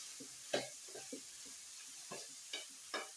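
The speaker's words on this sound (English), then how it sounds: "it's deglazing the pan" Beef sizzles faintly in a pan being deglazed for spicy beef spring rolls, a soft steady hiss punctuated by a handful of short scraping stirs, close and quiet with no talk.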